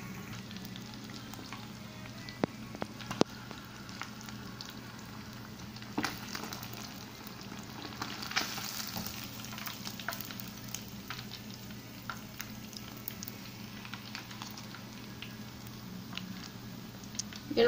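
Pieces of mojarra fish fry in very hot oil, giving a continuous close sizzle with scattered pops and crackles over a low background hum, and no talking.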